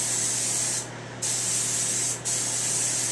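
Close, loud hiss of an aerosol spray paint can in bursts, applying light coats of black paint, with two brief pauses between long continuous sprays.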